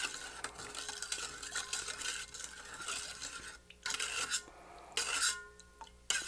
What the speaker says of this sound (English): we're kind of stir that a little bit